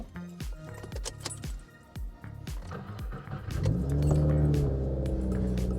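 Car engine starting up during an oil pressure gauge install: a series of sharp clicks and knocks, then the engine catches and settles into a steady low rumble that grows louder.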